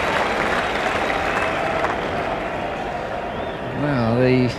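Steady polite applause from the crowd at the 1989 England versus Australia first cricket Test, an even wash of distant clapping running throughout with a faint voice rising near the end.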